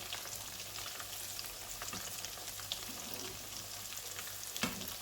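Fish goujons frying in hot fat: a steady close sizzle with crackling pops throughout, with occasional stirring sounds.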